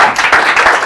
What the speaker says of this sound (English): Give Vishwa a round of applause.